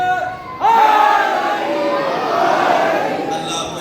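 A crowd at a Muharram mourning gathering suddenly shouts a religious slogan in unison. The loud, sustained chorus of voices rises abruptly and then holds before tapering slightly.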